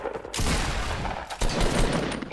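Sustained bursts of automatic gunfire in the Fortnite battle royale, loud and dense throughout with a brief dip before a second heavy volley.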